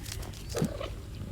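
A dog in the video game I am Cat makes a short, mid-pitched bark or grunt against steady game background noise, heard once and fairly close.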